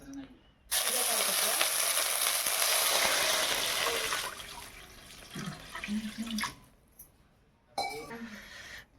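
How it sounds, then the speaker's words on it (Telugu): Water is poured into a pan while a homemade sweet is prepared, a loud splashing stream for several seconds, then quieter clinks and brief bursts, with a voice speaking in between. "ఇందులోనే నీళ్లు పోసుకుంటున్నాను."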